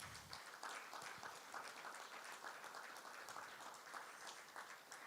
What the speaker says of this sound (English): Please applaud for these people.